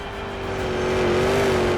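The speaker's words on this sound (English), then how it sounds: "He's just whipping that truck around" A Monster Jam truck engine roars loudly and steadily during a freestyle run, holding a sustained droning rev that swells slightly toward the end with no talk over it.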